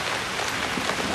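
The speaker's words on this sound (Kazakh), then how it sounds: "Жаңбырды бастап кетті." Rain falls at night as a steady, dense hiss of drops hitting surfaces, constant and fairly close throughout, with no voices.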